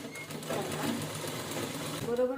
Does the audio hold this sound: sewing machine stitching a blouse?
yes